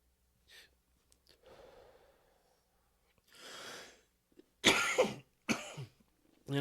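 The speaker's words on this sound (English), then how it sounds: "sorry for coughing" A person coughs several times, starting with softer breathy hacks and ending in a cluster of loud, harsh coughs near the end, with some gasping breaths between them and no speech.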